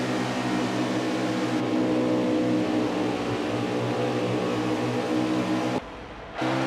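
Steady, droning engine whine from race cars in a racing video game, continuous and fairly loud, with a brief dip in the sound near the end.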